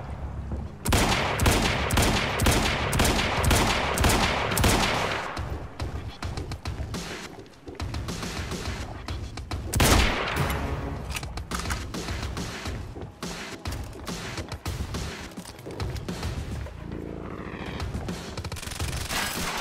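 Heavy video game gunfire in Quantum Break, rapid automatic bursts and scattered shots overlapping in dense volleys, with a loud boom near the middle and rattling fire continuing to the end, voices faintly mixed under the shooting.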